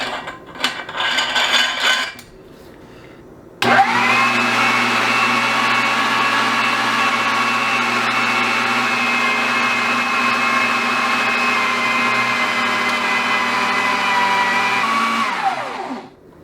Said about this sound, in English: we're going to grind everything through the fine plate